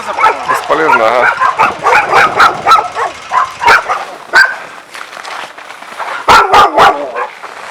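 Owned dogs in Yakutsk bark loudly and close by, with rapid bursts of barks, yips and whimpers overlapping throughout and a final cluster of sharp barks near the end.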